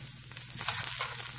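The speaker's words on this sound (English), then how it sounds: "you can see the oil sizzling away, the sausage sizzling away" Sausage sizzles in hot oil, a steady crackling hiss heard up close with no talking.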